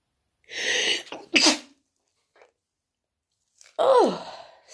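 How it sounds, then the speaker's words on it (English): A person sneezes close up, a sharp burst followed by a short breath. After a pause comes a second, stronger sneeze with a rising then falling vocal sound. "I'm going to sneeze again."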